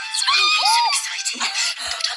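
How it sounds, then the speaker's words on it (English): A screech owl gives harsh, loud screeching calls at close range, one rasping shriek after another with no speech over them. "They're called screech owls."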